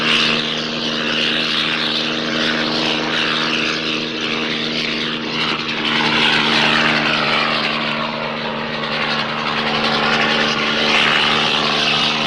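A low-flying helicopter over wooded mountain terrain gives off a loud, steady engine drone with a strong humming tone, sustained without a break and close overhead throughout.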